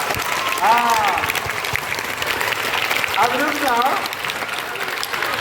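A theatre therapy workshop group claps together in a steady burst of applause, with people talking over and between the clapping.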